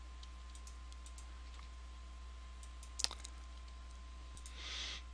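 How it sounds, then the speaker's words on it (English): Sparse, quiet clicks of a computer mouse in the UDK level editor, with one sharper click near the middle, then a brief soft rustle at the end. "And we click on that."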